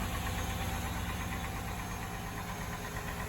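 Chevrolet Camaro engine idling just after starting, a steady close rumble with a knocking, vibrating texture, alone and constant throughout.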